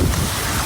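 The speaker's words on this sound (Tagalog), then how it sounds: "Grabe, lakas ng hangin." Strong wind buffets the microphone outdoors in the Philippines, a brief loud rumbling gust with broadband roar and no speech.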